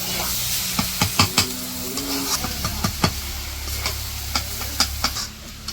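Cabbage and small fish fry in a village-style pan with a steady sizzle, broken by clattering stirs and scrapes of a spatula and a low rumble underneath.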